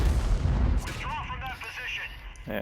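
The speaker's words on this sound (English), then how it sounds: "So there's the gun on the Matilda at work" The main gun of a Matilda tank in a tank video game: a heavy boom near the start, then a short ringing, whistling decay, with a second sharp report just before the end.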